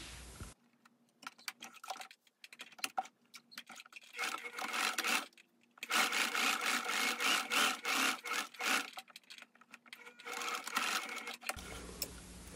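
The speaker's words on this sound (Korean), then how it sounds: "여기 시접선을 따라서 여기만 박음질을 해줍니다." Sewing machine stitching along the seam allowance line of a high-neck pleated dress, running in quick buzzing bursts with short stops between them, close and moderately loud, with no voices.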